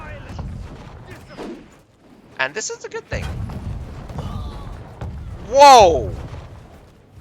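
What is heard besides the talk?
cannon shots from wall cannons in the video game Conqueror's Blade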